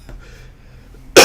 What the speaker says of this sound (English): and then it kicks off my coughing